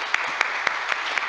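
Sparse applause at a panel on women and labor reform in Mexico City: a handful of distinct, evenly spaced claps stand out over a thin wash of softer clapping, brief and close.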